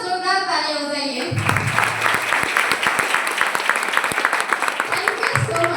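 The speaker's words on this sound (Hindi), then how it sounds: "तो एक बार जोरदार तालियां बजाइए।" An audience at a business seminar in Siddharthnagar, Uttar Pradesh breaks into loud, sustained applause after a brief moment of speech, dense clapping filling the room for several seconds.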